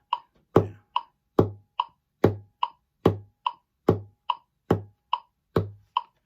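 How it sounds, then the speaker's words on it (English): Alternating sharp metronome clicks and dull wooden taps on the top of a guitar in a steady even rhythm, close and clear with silence between each hit. "hear the metronome click, and then you're going to hear that alternate with me tapping the top of the guitar"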